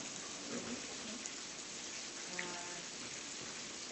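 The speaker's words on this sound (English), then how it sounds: "Enjoy the rain." Steady rain falls outside during an evening village board of trustees meeting, a soft, even hiss with light patter that continues at low level for the whole stretch, with faint murmurs in the room.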